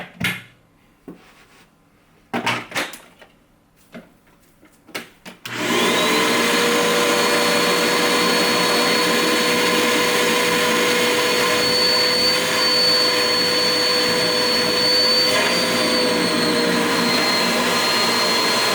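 Several short knocks and clunks give way to the loud, steady whooshing roar of an EnviroKlenz air purifier drawing in air during a test, running continuously at close range.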